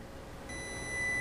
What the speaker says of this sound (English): Quit beeping!